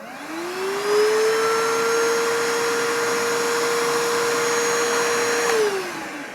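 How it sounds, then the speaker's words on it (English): A Stihl HSA 20 cordless cleanup vacuum whirs up to a steady high-pitched whine on high, holds it for several seconds, then spins down as it switches off. "We also have our handy cleanup vacuum, the Stihl HSA 20."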